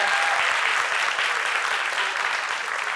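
Dense, sustained applause from a crowd for a musical group, even and loud for the full three seconds.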